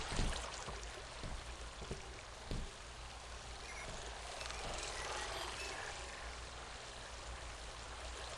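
Broad, rushing water hiss of a waterfall in the game Second Life, steady and fairly quiet throughout with a couple of brief thumps near the start.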